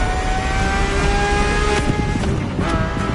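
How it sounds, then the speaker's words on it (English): Loud, steady engine roar from a Ferrari F50's normally aspirated, Formula One-derived V12, holding a high sustained whine with tonal harmonics and faint shifts in pitch, heard close with no talk over it. "The F50's core is a normally aspirated V12 that came straight from a Formula One"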